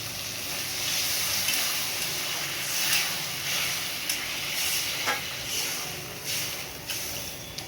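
Water hits sautéed spices in a hot pan for an egg and potato curry, bursting into a loud steamy hiss that settles into bubbling sizzle, with a few utensil knocks.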